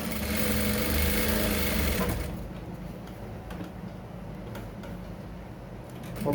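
A sewing machine top stitching through the layers of a single welt pocket, running in a steady, loud whir for about two seconds before dropping to a quieter mechanical hum with faint ticks.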